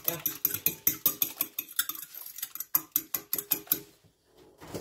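A fork beating eggs in a bowl for pastels, a rapid run of sharp metallic clinks against the dish in a steady whisking rhythm, pausing briefly before stopping near the end.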